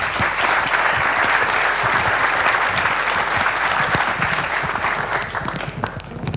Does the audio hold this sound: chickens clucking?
no